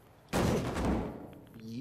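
A single loud gunshot is fired at barrels in the video game Fallout New Vegas, a sharp blast with a rumbling tail that fades over about a second before quieter game sounds.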